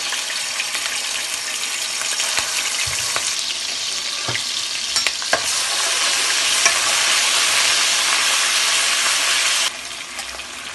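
Steady loud sizzling of garlic-ginger paste frying in a hot pan for chicken curry, with occasional stirring clinks and scrapes throughout.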